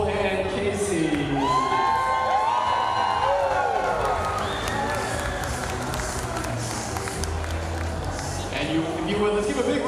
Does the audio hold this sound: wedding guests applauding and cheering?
yes